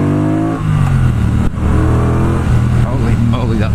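A 2018 Triumph Bobber Black with its 1200 Thruxton engine revs around 2,600 rpm, a loud close throaty drone with shifting pitch under wind noise, someone talking over it.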